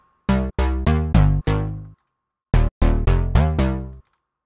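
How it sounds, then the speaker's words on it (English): House bass stab synth patch built in FL Studio's Sytrus, playing two short phrases of punchy, harmonically rich stabs, five then five, each decaying quickly, loud and dry with no voices. "I will be showing you how to make this kind of house bass stab sound"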